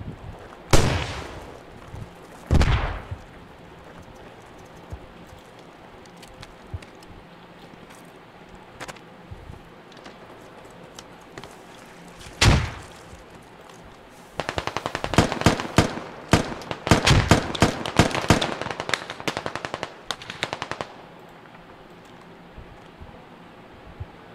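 Gunfire from the Squad video game during a 40-versus-40 battle against Russian forces: a few loud, isolated shots spaced seconds apart, then a dense stretch of rapid overlapping bursts, with quieter ambient battlefield noise between.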